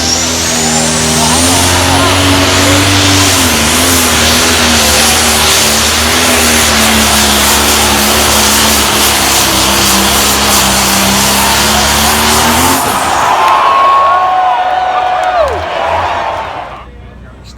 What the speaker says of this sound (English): they're now fielding 3 gorgeous John Deere Pro Stocks